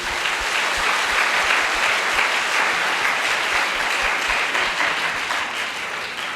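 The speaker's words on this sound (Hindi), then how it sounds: "प्रभु यीशु के लिए जोरदार ताली बजाइए।" A church congregation at a worship and healing prayer service breaks into loud, sustained applause, a dense steady wash of clapping that carries through without talk.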